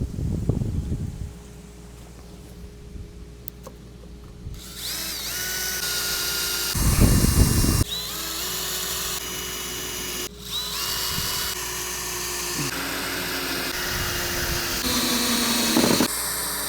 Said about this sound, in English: now I can go ahead and start actually screwing it together